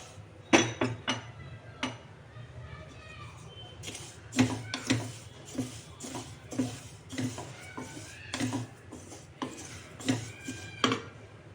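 Sesame seeds dry-roasting in a hot kadhai, stirred with a spatula: repeated scraping strokes and clinks against the pan in an irregular rhythm, close and fairly loud, with a faint crackle of popping seeds between strokes.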